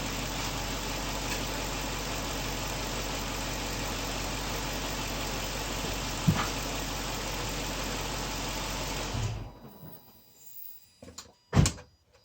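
An Infiniti V8 engine idles with a steady low rumble for several seconds, then shuts off, followed by a few clunks and a door-like thump in the quiet.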